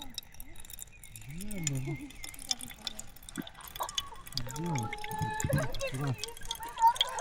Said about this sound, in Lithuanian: Kažkaip tai va taip teka įdomiai. Tai filtruojas